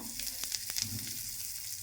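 Mustard seeds, dal and asafoetida crackle and sizzle in hot oil in a kadai, a short burst of sharp pops over a steady frying hiss.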